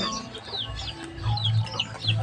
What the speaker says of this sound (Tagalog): Ayan po, mga manok.